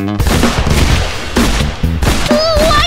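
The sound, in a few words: revolver gunshots in an animated video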